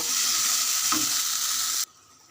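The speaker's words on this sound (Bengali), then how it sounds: "এখন আমি এখানে হলুদ মরিচ সব মশলা মিক্স করে নিয়েছি, লবণ, এটা ভালো করে কষিয়ে নেব।" Turmeric, chili, salt and mixed spice masala stir-fried in a pan for a prawn and ridge gourd curry, giving a steady close sizzle with a spatula scrape midway, cutting off abruptly near the end.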